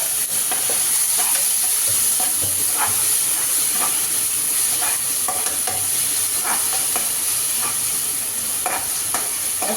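Tomato gravy sizzles and hisses loudly on browned onions in a hot pan for a masala bhindi, with repeated spatula scrapes and taps as it is stirred; steady, close, no speech.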